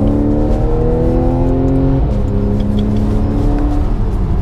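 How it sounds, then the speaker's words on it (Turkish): Porsche 911 engine revving hard after a two-gear downshift with the exhaust valve open, a loud, steady drone that drops in pitch midway and continues close and alone. "buna basıyorsun bir vites, buna basıyorsun iki vites düşürüyor ve egzoz açılıyor bak"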